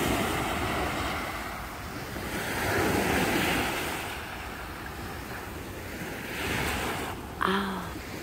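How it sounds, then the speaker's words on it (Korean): Ocean surf rolling in at night on Haeundae beach in Busan, a steady broad wash of breaking waves with wind across the microphone, swelling and easing, with a brief sharp knock near the end. "이 파도처럼."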